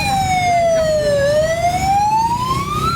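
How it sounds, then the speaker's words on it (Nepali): An ambulance siren in Nepaltar, Nepal, wails loud and close. Its pitch dips and then climbs again in one steady, continuous sweep as the vehicle passes. "एम्बुलेन्स आउँदै हुनुहुन्छ"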